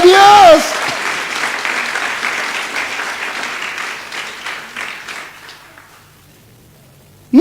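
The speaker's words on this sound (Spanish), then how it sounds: "¡Dale un aplauso a Dios!" A crowd applauds steadily, loud at first and gradually thinning and fading away, with a voice heard briefly at the start and end.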